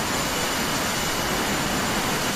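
Steady, loud jet engine roar from an aircraft in the DCS World flight simulator, a continuous broadband whoosh with no breaks, heard alone without talk.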